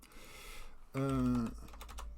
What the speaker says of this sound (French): Si je savais taper au clavier, ça irait mieux.